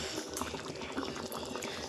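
Peas kurma curry simmers in a pan, a steady close bubbling and gurgling that runs without pause and sounds low and soft.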